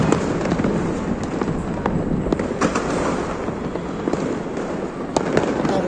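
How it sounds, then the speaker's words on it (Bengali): New Year 2025 fireworks burst continuously, a dense barrage of crackling pops and sharp bangs that stays loud throughout without a pause. "এই যে আতশবাজি এবার আমরা করলাম এটা হইলো।"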